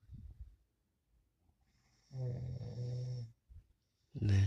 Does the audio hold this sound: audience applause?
no